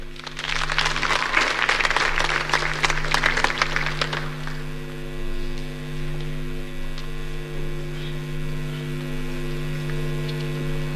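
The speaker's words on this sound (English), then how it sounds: "Let's give him a better hand of applause, please." Crowd at a Kenyan election event giving a short burst of applause, scattered clapping for about four seconds that fades out, leaving a loud steady electrical hum from the sound system underneath.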